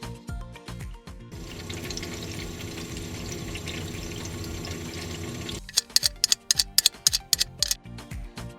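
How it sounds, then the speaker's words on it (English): Refrigerant gurgles through refrigerator coils as the compressor runs: a steady flowing, pouring wash, followed by a series of sharp ticks and drip-like pops. "operational activities of the fridge can sometimes produce a boiling or gurgling sound, which is completely normal"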